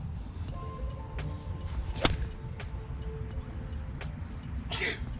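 A single sharp sneeze bursts out near the end, on a golf course while putting, following a few scattered clicks and taps over a low outdoor rumble; no one speaks.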